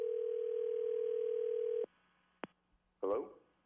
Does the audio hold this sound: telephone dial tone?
yes